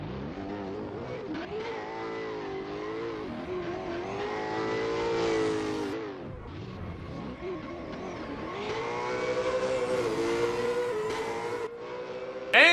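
Ford Mustang and Mazda RX-7 race cars drift in the Assetto Corsa video game, their engines revving and wailing in rising and falling pitch sweeps. There is a brief dip midway and a sharp burst at the end, with no voices.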